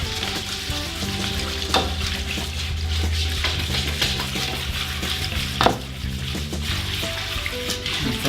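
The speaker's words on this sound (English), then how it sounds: "Just gonna whisk this up" A yeast mixture is whisked with a sprinkling of flour for hot cross buns, giving steady close scraping and stirring with an occasional knock against the bowl and a faint background hum.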